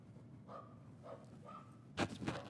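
A dog barks faintly in the distance during a school board work session: a few soft, spaced yips followed by a slightly louder pair of barks over quiet room hum.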